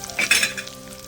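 Brief, close sizzle of a tempering with curry leaves frying in hot oil for dal, a quick crackling flare that settles into a softer frying hiss.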